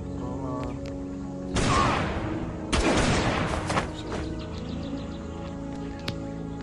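Gunfire from a gun in a Jurassic survival arena video game: two bursts of shots around two and three seconds, fairly loud over a steady background game soundscape, with no talk.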